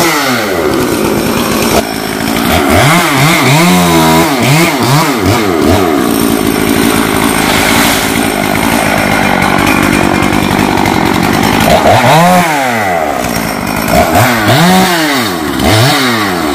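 Chainsaw cutting the long branches of a rain tree near a school roof, its engine loud and close, running nonstop with repeated rising and falling revs and no voices.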